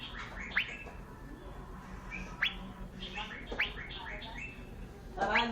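A caged cucak gadung songbird gives a run of bright chirps and whistled phrases in short bursts, set against a low background hum and soft murmur.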